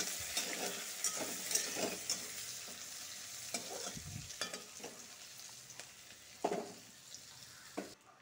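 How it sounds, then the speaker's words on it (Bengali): Chopped onions frying in a pan for a pumpkin, potato and soybean curry, a steady close sizzle broken by scraping stirs and clinks of the spatula, with no talking. "এখন পেঁয়াজের কুচিটা ভালো করে ভাজবো লাল লাল করে"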